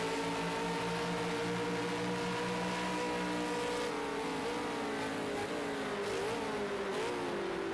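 Race cars racing at Ruapuna Park in a Super2 event, engines whining loudly at high revs with pitch shifts as they accelerate and lift, continuous and fairly close, no talk.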